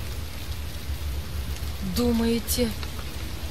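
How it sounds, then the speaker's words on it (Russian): Light rain patters steadily in the video game Heavy Rain, a soft continuous hiss under a brief spoken phrase. "Сейчас так, слегка покапивает."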